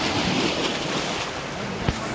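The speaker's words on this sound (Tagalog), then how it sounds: "Malakas pa rin yung alon," Strong sea waves surge and crash continuously on a shoreline after a typhoon, with heavy wind rumbling across the microphone throughout.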